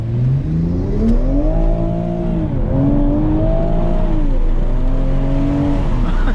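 A 2020 Toyota Supra accelerates hard in sport mode, its engine pitch rising through the gears with brief dips at each shift. Loud and steady, heard from inside the car with no talking.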